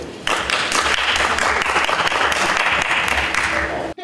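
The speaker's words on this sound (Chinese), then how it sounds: "无党籍基隆市议员吕美玲的质询获得市长谢国良和市府官员热烈掌声" Keelung's mayor and city officials applaud warmly in the council chamber, a burst of close, dense clapping that holds steady for several seconds before cutting off.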